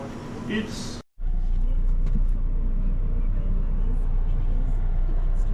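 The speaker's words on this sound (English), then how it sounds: "We are currently taking the hauler up to our main shop to do a little maintenance" A race team's hauler truck drives along a road, a steady broad engine and road rumble running continuously after a brief cut near the start, with muffled speech over the opening second.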